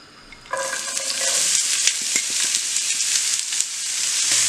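Chopped onion and garlic hit hot olive oil in a pan and burst into a loud, continuous sizzle that holds steady, with faint stirring clicks underneath and no voices.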